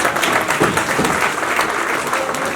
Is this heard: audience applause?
yes